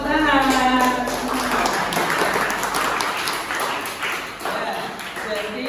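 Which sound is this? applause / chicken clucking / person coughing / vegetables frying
applause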